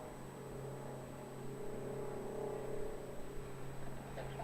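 The engine of an airport tug that pushed back aircraft VH-EFR drones steadily and faintly from a distance, a low continuous hum with a slight swell midway.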